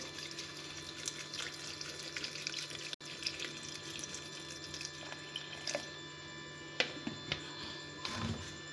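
Water is poured steadily into peach juice already mixed with salt and sugar, a soft continuous trickle with a few small splashes and drips near the end, with no talk.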